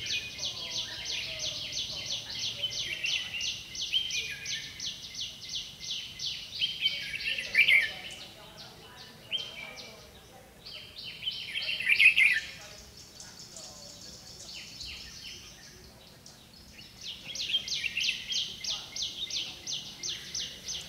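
A trapped red-whiskered bulbul used for fighting-bird trapping repeats bright chirping phrases at moderate distance, in bursts with quieter gaps, over low background rustle.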